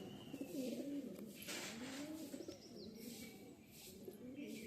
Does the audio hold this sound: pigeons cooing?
yes